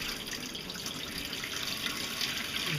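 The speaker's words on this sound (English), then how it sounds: "The reason I'm using water is just to wash the skin off." Tap water runs steadily into a sink while corn is washed to remove its skin during poi making with a corn grinder, a continuous close hissing splash with faint drips and no talking.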